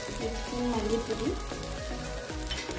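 Ground turmeric, chilli, coriander and garam masala frying in a pan for egg curry, a steady close sizzle with scraping stir strokes and a faint voice underneath.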